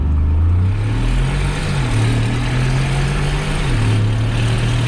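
Mercedes G500 4x4² V8 engine driven in manual mode, a loud, steady low drone close up with pitch stepping up and down between gear holds, no voices over it.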